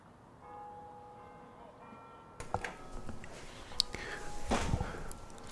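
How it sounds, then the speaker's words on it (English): A distant clock bell chimes the half hour over a cricket ground during a Glamorgan versus Leicestershire County Championship match, its faint sustained tones fading into soft outdoor murmur and scattered small noises. "Clock in the distance chiming the half hour."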